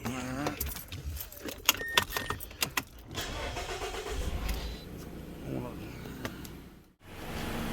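Keys jangle before a 2012 Mazda 3 engine cranks and starts, settling into a steady idle, recorded close with a person talking briefly over the start.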